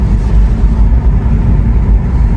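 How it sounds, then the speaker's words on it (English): A 2003 Mercedes SL500 (R230) driving, its engine a loud, steady low rumble from inside the cabin with road and wind noise, smooth with no distinct gear-change breaks. "if you guys are able to hear the car, you know, it's very smooth, and, you know, the gears are shifting very smoothly"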